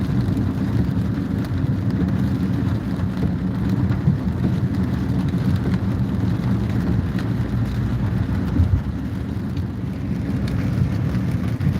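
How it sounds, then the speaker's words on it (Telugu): Heavy rain pours in a dense, unbroken roar with thunder rumbling low underneath, loud and steady throughout, at night in Hyderabad near the Outer Ring Road. "అయినా వర్షం ఫుల్ రైన్"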